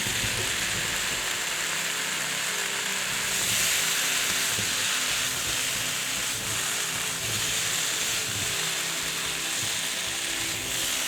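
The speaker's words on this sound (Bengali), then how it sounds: "এখন বেগুন, শিম, কাঁচা মিষ্টি কুমড়ো দিয়ে দিচ্ছি।" Eggplant, beans and raw pumpkin go into hot oil for a mixed vegetable curry, giving a steady, loud hiss of frying that rises briefly and stays even, with no talking.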